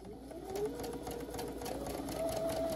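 Sewing machine stitching a ruffle on a half apron, running steadily and close for a few seconds, with a brief backstitch reversal and no talk.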